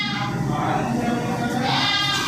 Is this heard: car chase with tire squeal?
no